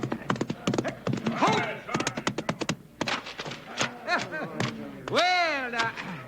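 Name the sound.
horse hooves running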